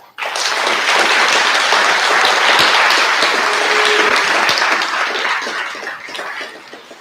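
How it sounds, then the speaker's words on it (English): Loud, sustained applause from a crowd at an 8th grade moving up ceremony, starting abruptly and continuing steadily before tapering off toward the end. "let's have a round of applause."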